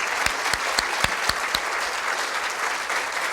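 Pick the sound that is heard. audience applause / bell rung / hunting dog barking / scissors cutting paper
audience applause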